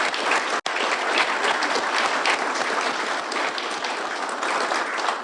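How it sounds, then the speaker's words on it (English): Dense, sustained applause from an audience at a fire, rescue and EMS awards ceremony, loud and continuous with one brief dropout, no talk over it. "Let's give them all a round of applause."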